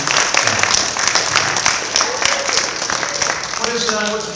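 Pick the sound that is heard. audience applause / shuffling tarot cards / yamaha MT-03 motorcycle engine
audience applause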